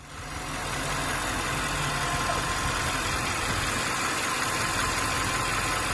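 A Bentley Continental GT 4.0 V8 idles steadily after a restart following turbo repair work, producing a continuous, even engine rumble with no talk.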